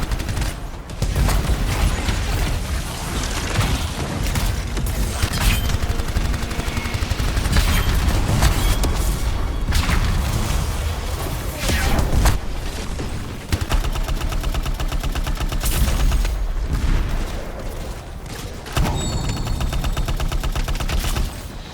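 Rockets and heavy gunfire in the sci-fi shooter Anthem: a loud, dense, continuous barrage of blasts and booms with brief lulls, sustained throughout.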